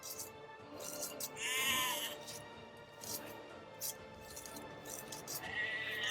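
Sheep bleat several times in Age of Empires 2, high wavering cries rising over a voice giving tutorial instructions, with game sounds underneath.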